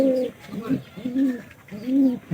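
A pigeon coos in repeated soft, throaty phrases, three or four rising-and-falling calls close by, with brief quiet gaps between them.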